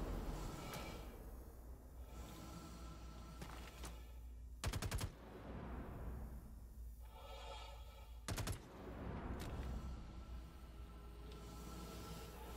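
Automatic weapon fire in the Star Citizen video game, with two loud, dense bursts of rapid shots standing out over a constant droning game background.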